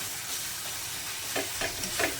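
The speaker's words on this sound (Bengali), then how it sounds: "যেখানে ঘুগনির মশলা কষানো চলছে পেঁয়াজ রসুন আদা কাঁচা লঙ্কা ধনে গুঁড়ো দিবে গুঁড়ো সব কিছু দিয়ে কষাকষি চলছে" Ghugni spice paste with onion, garlic, ginger, green chilli and ground coriander is stir-fried in a pan, a steady close sizzle with several scraping stirs toward the end.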